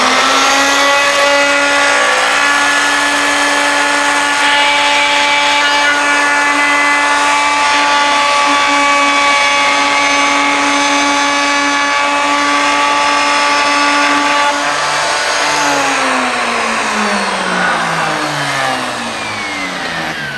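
A power cutting bit, probably on a lathe, carves a cove into a wooden hammer-head walking cane, giving a loud, continuous, steady high whine for most of the time, then falling in pitch as it spins down near the end.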